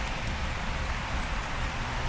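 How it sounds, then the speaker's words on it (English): Heavy rain pours steadily outdoors while snow stakes are set out for plowing, a dense continuous hiss with no pauses and no talk. "it's absolutely pouring rain"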